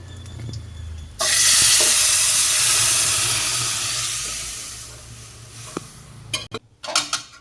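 Garlic and curry leaves fry loudly in a pan. A steady, close sizzle and hiss sets in suddenly, slowly eases off, and ends in a few sharp stirring clatters.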